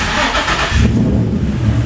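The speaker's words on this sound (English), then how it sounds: "I'm gonna start the car, let the fans kick on, just so you can hear it." A Nissan 350Z engine starts with a broad noisy burst, then settles into a rough rumbling idle with its radiator fans running, close and fairly loud throughout.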